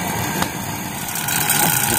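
A vacuum pump evacuates a newly installed LG air conditioner outdoor condenser unit, giving a steady, loud mechanical drone that runs without a break for the whole stretch.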